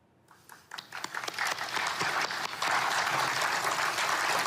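Applause at the formal launch of the Gaza Peace Board starts with scattered claps and quickly swells into steady, dense clapping from a crowd.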